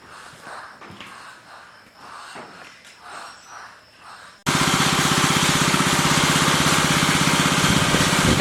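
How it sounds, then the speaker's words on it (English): A power trowel finishing a poured concrete floor starts abruptly partway through, a loud continuous engine drone with a rough mechanical rattle, following quieter shuffling and breathing-like noises. "second pass with the power trowel. Just working his way down."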